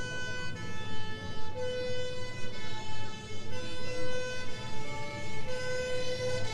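A vintage Citroën HY fire truck sounds its two-tone siren during a historic vehicle parade in Chauray, alternating high and low notes in a steady rhythm at moderate distance over a low rumble of slow traffic.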